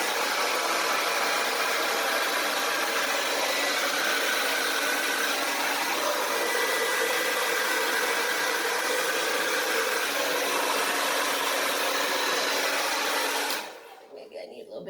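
A hair dryer blows acrylic paint across a canvas for fluid wave art, a loud, steady whooshing roar that runs without a break and then cuts off near the end.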